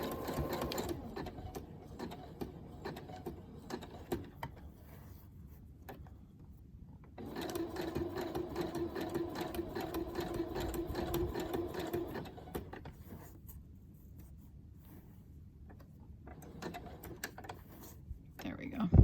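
A sewing machine sews a hand-held fabric patch in short bursts, with a steady whirring run in the middle and quieter rustling and handling noises around it, while a person talks intermittently.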